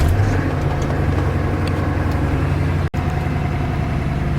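A car engine idles with a steady low rumble, briefly cutting out for an instant before resuming its even hum.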